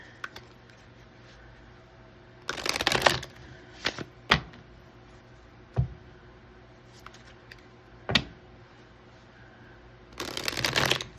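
Tarot advice cards shuffled in several bursts, a longer riffle near the start and another at the end with a few single card snaps and taps between, close and fairly loud.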